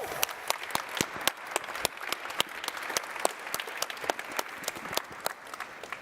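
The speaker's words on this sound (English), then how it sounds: "Another big round of applause, please, for Maja Hoffmann." An audience at a talk gives a round of applause, with many distinct sharp claps standing out over a steady clapping wash, continuous and fairly even for about six seconds.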